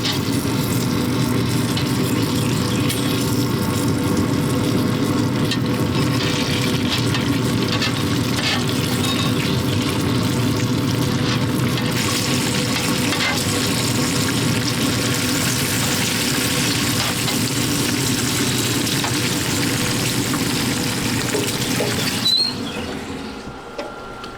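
Bacon sizzles on the griddle of a Yoder YS640S pellet smoker alongside pancakes, a dense, steady crackling hiss that runs unbroken for about twenty seconds before cutting off abruptly near the end.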